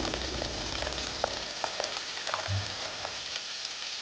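Anchovies fried with turmeric in a hot pan crackle and sizzle steadily, with scattered sharp pops and a soft stirring scrape partway through, close and moderately loud.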